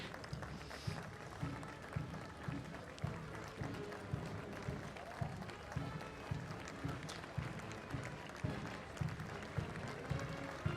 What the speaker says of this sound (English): Isn't it fabulous to hear that crowd clapping?